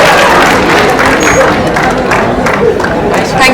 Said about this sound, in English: Let us give a big round of applause for Keshav Agarwal, sir.